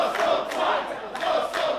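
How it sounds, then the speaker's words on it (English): A wrestling crowd jeers Saxon Huxley in rising and falling waves of chanting and booing, moderately loud and continuous. "Oh, crowd not a fan of Saxton for some reason."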